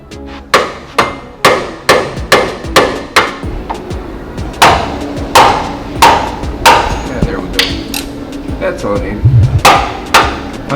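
A hammer strikes hard on El Camino rear suspension parts, with a close, loud, evenly paced run of metallic whacks, about a dozen in a row, followed by a looser cluster of blows.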